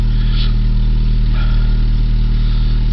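A Dodge Sundance's throttle-body fuel-injected engine runs at a steady idle, a constant low hum close by, with no voices and no revving.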